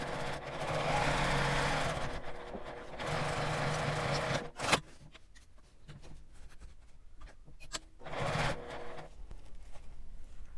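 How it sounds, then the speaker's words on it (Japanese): A sewing machine stitching a fabric seam with a 1 cm allowance, running in steady mechanical bursts close by, with brief pauses, a sharp click, and quieter handling between runs. "またさらにこちらの底まで1センチの縫い代で縫います"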